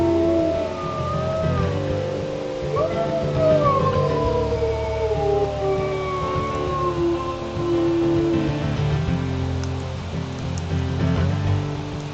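A wolf in the video game WolfQuest howls in long, wavering cries, with a second howl answering, over a steady rumbling wind-like background.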